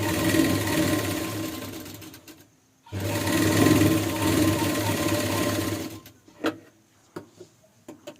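Electric sewing machine stitching blouse fabric through the main cloth only, leaving the lining free; two steady runs of fast continuous whirring, close and loud, separated by a brief pause and followed by a few light clicks and handling taps.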